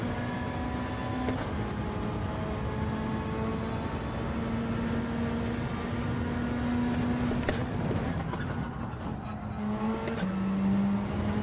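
Race car engine in a sim racing time trial game, a steady droning whine that shifts pitch through gear changes, running continuously with occasional sharp clicks.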